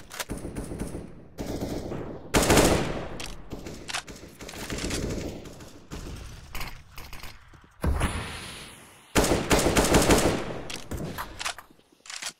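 AK rifles fire in a Counter-Strike match on the Cache map: bursts of rapid automatic gunfire and single sharp shots come in several volleys, some close and loud, others softer, with brief gaps between them.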